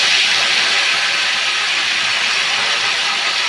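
Mint and coriander leaves, with a bay leaf, sizzle in hot oil in a pan, a loud, even, continuous frying hiss close up with no voices.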